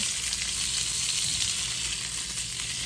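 Green beans frying in olive oil in a pan, a steady bright sizzle with a soft hiss running throughout, fairly quiet and close, with faint low stirring underneath.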